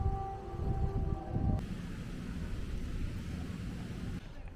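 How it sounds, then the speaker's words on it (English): Air raid siren sounding across the city of Kharkiv, Ukraine, a steady wailing tone with harmonics heard over loud rumbling background noise, cutting off abruptly partway through, leaving a dull continuous drone. "it was a air raid siren all over the whole country"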